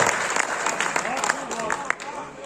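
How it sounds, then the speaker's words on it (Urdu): Audience at an Urdu mushaira poetry gathering clapping, a lively burst of applause with voices talking over it. "تو اپنے بزرگوں کے لیے بھی تالیاں اور اپنے شاعر کے لیے بھی تالیاں"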